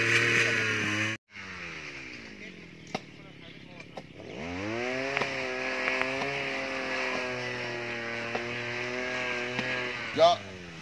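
A land-clearing machine's engine roars loudly and steadily in the open, its pitch dipping and climbing as it labors, with a brief cutout early on and people talking over it.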